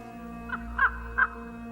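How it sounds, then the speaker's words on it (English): Crows cawing in a cold winter scene from the Planet Earth documentary, three distinct caws over a steady background hum, fairly close. "Oh, birds?"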